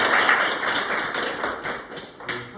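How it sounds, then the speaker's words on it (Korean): Audience applause in a company training session or lecture, a dense, steady wash of many hands clapping at moderate level, tapering slightly near the end. "박수 한번 주세요"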